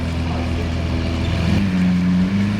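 Deep, steady exhaust drone from a tuned Mercedes SV sports car with an opened exhaust valve, loud and close, holding a low, continuous rumble that shifts pitch slightly midway.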